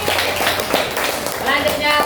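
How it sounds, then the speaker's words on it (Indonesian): Classmates clapping for a group in a primary school classroom, a short burst of uneven, close hand claps with some voices mixed in. "kasih tepuk tangan untuk kelompok 1"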